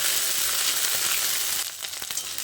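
Spice tempering with ground ginger and green chili frying in hot oil for a cabbage dish, a bright continuous close sizzle that settles slightly softer near the end, with faint stirring taps and no voices.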